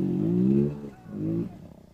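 A motorcycle stuck in a river revs its engine in two strong surges, each rising and then easing off, close and loud with no talk over it.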